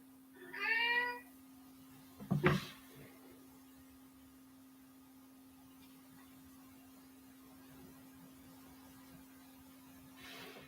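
A cat meows twice indoors, the first a clear drawn-out call and the second a shorter, harsher cry, both close by over a steady electrical hum, with quiet stretches between and no talking.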